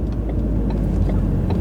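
Learner car moving off during a driving lesson, giving a steady low engine drone that holds at an even level for a moment with no voices over it.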